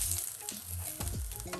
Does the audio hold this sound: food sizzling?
yes